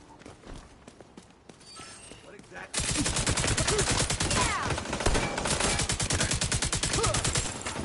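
Rapid bursts of gunfire in The Division 2 crackle continuously after a quieter opening, dense and loud, like an automatic weapon firing in a battle.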